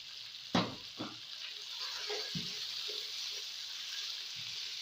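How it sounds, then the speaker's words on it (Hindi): Onion, tomato and capsicum sautéing in a pan for a pasta in white sauce, soft steady sizzle with a couple of knocks as the vegetables drop in and are stirred, quiet and close. "अब इनको हम सौते करेंगे।"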